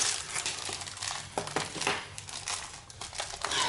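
Plastic wrapping on a package crinkles and crackles as it is opened, with irregular rustles and sharper crunches, quiet and near, without speech.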